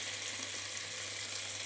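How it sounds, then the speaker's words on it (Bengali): Taro stolons (lati) frying in hot oil with black cumin, a dense, steady sizzle and crackle close by, continuous and even throughout with no voices. "এবার আমি লতিটাকে দিয়ে দিচ্ছি, তেলের ওপর লতিটাকে দিয়ে দিলাম।"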